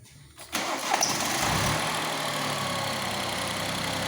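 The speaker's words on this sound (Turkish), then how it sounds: "Şimdi evet aracımızı çalıştıralım şimdi." A car engine cranks briefly and catches, then settles into a steady close idle for several seconds; the car is being checked for ignition coil faults, no talking.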